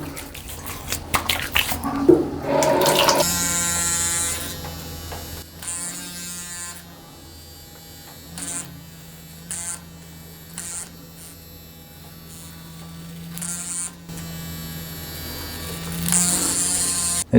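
A Gillette ProGlide Power razor with micro vibrations buzzes steadily as it is drawn through shaving gel and water, with a close continuous motor hum and short scraping passes over stubble.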